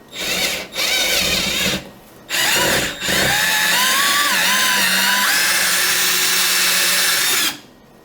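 A cheap cordless drill whirs loudly in bursts during a guitar restoration, two short spins followed by a long steady run with shifting pitch, then stopping.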